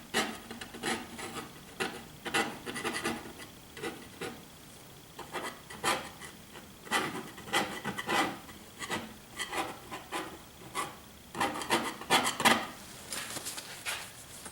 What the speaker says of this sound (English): Let me see if it's too late to do some scraping